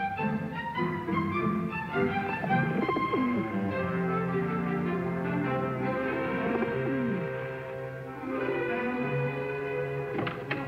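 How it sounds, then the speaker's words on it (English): Continuous low cooing from several band-tailed pigeons, soft rolling calls overlapping steadily over a busy background of other bird chirps. "Pigeons don't scare as easy as most birds, Jeff."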